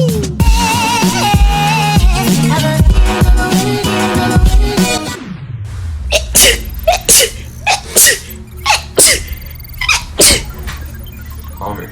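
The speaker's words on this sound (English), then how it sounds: "I'm gonna be trying to sneeze with my eyes open" Repeated sneezes, roughly six short sharp bursts spaced about a second apart, follow a stretch of music. Each one is loud and close and stands alone with no talk over it.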